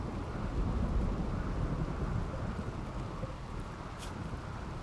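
A lightning strike in RimWorld brings a deep, loud thunder rumble that swells at the start and slowly fades over several seconds, with no talking.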